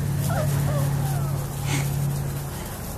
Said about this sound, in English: Puppies, puppies. Puppies, puppies.